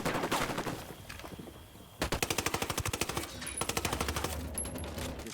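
Rapid bursts of automatic gunfire in the video game Ghost Recon Wildlands, a scattered volley followed by two sustained machine-gun strings with fast even rhythm, loud and close with no talking over it.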